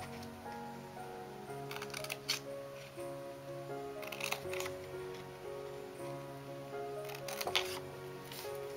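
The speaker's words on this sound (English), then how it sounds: "So we're just going to cut along the remaining 3 lines." Scissors or blade cutting paper along score lines for window treat bags: three short crisp snipping bursts, evenly spaced, over a steady soft background hum.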